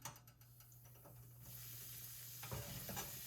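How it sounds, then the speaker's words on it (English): Curry powder toasts in a hot pan for Jamaican curry chicken, giving a quiet, steady sizzle with a few scraping stirs and light clatter near the start, and no talking. "allow the curry to toast"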